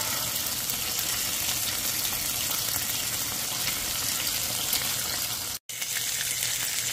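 Steak sizzling on a hot griddle, a steady bright crackling hiss that holds evenly throughout, broken once by a split-second dropout near the end.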